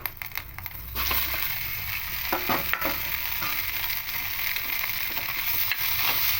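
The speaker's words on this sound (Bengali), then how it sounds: "তাই এবার আলুগুলো এখানে দিয়ে দেবো" Potatoes stirred into hot ghee with green chillies in a pan: a loud, continuous close sizzle broken by scraping and clinking strokes from stirring, no talk.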